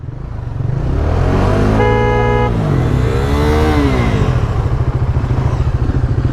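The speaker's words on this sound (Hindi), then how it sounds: "हॉर्न दे रहे" A motorcycle horn sounds in a short steady toot over the loud rumble and revving of 2026 Duke 390, NS400Z, RR310 and Dominar 400 bikes lined up for a drag race, with engines roaring continuously around it.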